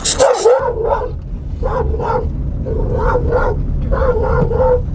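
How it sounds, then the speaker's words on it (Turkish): A dog barks in a rural village setting, a loud yelp at first and then several barks in pairs at a moderate distance, over constant outdoor rumble. "Uzaklaştık hala avlama sesi geliyor"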